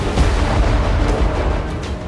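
Explosions during a massive night air attack on Kyiv, with drones and air defence fire: a heavy, rumbling low boom with scattered bursts and crackle, dense and fairly loud across the short span, no voices.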